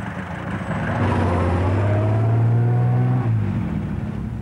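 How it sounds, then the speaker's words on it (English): An Austin Healey followed by a two-stroke Saab drive through a gate at a classic car autojumble, a steady close engine drone that builds and holds, then eases off as they pass. "An Austin Healey leads a two-stroke Saab through the gate."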